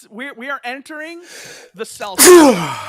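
A sharp, loud sneeze bursts out at the end of a podcast conversation, right after someone speaks.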